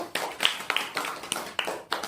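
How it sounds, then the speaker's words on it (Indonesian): A small group of students claps in an uneven burst during a classroom chemistry practical, sharp hand claps scattered over about two seconds, fairly close and moderately loud. "Kita beri tepuk tangan untuk kelompok 1"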